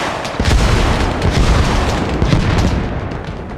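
Loud, close gunfire in the military shooter game Arma Reforger, a dense run of booming shots and cracks rolling together for several seconds with no talk over it.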